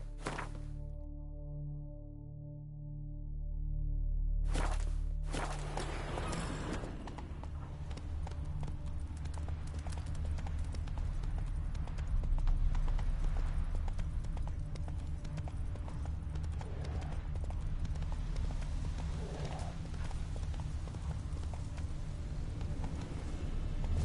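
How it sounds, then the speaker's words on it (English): Horse hooves gallop in a video game as a rapid, continuous clip-clop rhythm on the ground with a low rumble beneath it, close and steady for most of the stretch after a brief lead-in. "Whoa there, Roach. Faster."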